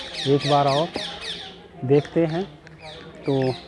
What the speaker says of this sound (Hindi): यहाँ पर कितने अच्छे पक्षी मधुर आवाज़ में अपनी बाणी निकाल रहे हैं